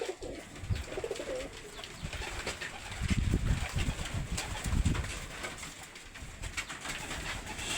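Racing pigeons coo steadily in low, throaty bursts, with several birds overlapping nearby and faint rustling in the background.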